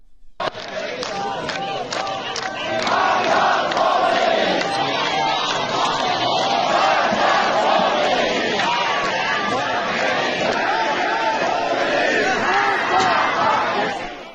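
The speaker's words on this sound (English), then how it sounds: "What these crowds are chanting is death to Khomeini," A large crowd in Iran chants anti-regime slogans against Khomeini in loud, rhythmic unison, with dense massed voices filling the air steadily throughout, some shouting and babble mixed in.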